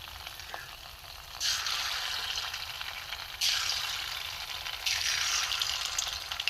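Small pieces of semolina batter dropped into moderately hot oil, three separate bursts of fresh hissing sizzle that each settle into a softer bubbling, fairly quiet and close with no voices.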